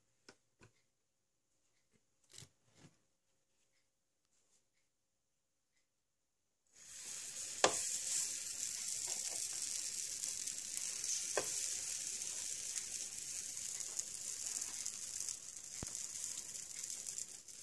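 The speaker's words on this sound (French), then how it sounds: "on va maintenant pouvoir chauffer nos gaufres" Waffle batter hits a greased, preheated waffle iron after a few quiet clicks, then sizzles in a steady, close hiss that continues with occasional sharp ticks.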